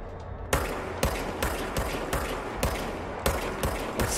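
A gun in the game Control fires in a series of about nine sharp, loud shots at irregular intervals, each with a short ringing tail, close up and without talk.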